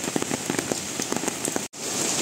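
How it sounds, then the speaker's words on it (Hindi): Heavy rain pours steadily with dense patter and scattered drops hitting a surface close by, broken by a brief moment of silence near the end. "बहुत तेज़ बारिश आई है, बहुत तेज़।"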